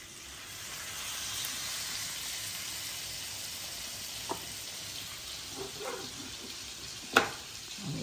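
Steak frying in a hot oiled pan, giving a steady, quiet sizzling hiss throughout, with a few faint clicks and small pops near the end.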